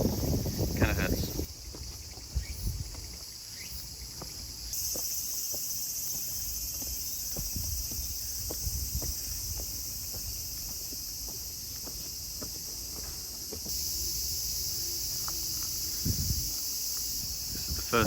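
Cicadas drone loudly and steadily in a garden in Nara, a continuous high buzz with a few pauses and shifts, while nearby footsteps, rustling and faint voices pass beneath it.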